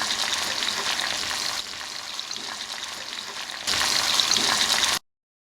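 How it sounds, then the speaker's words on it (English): Beef bourguignon cooks in a pot over low heat, giving a continuous bubbling, crackling hiss that softens for a stretch and then grows louder again before cutting off abruptly. "Lower the heat, but we're going to let that simmer for about 3 hours."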